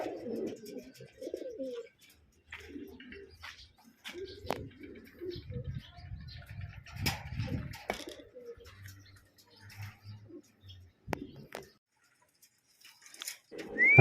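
Racing pigeons land on a house roof during a training flight, with soft cooing and calls, light fluttering and scattered pattering across a quiet scene, some sharp taps and a few louder wing-flaps near the end.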